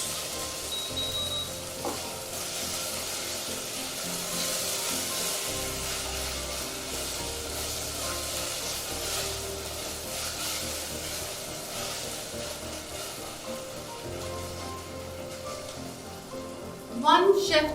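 Ginger garlic paste sizzles steadily in hot oil while being stirred for biryani, a continuous hissing fry with a brief louder burst near the end; a voice is faintly present.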